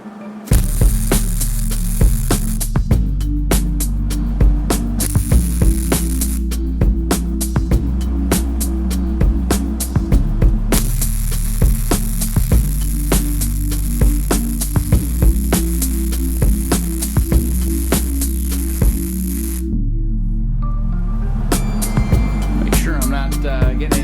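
A MIG welder laying a few short test spots and then a longer pass, a steady buzzing crackle with mains-like hum underneath, stopping and restarting in bursts, close and loud, ending in a brief quiet stretch.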